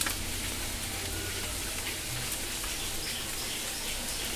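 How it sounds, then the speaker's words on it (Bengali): Steady rain falls through the whole stretch on a dark morning near a home with lychee trees, a soft continuous hiss with light patter on surfaces and no voices. "আর এই দেখো বৃষ্টি হচ্ছে, অন্ধকার, এখনো বৃষ্টি পড়ছে।"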